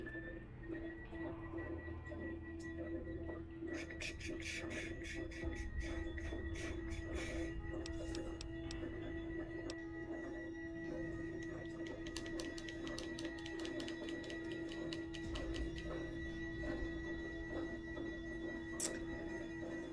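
Robot vacuum cleaning its mop in a room, a steady faint mechanical hum with a constant tone and irregular ticking and clicking running throughout, distant and low in level.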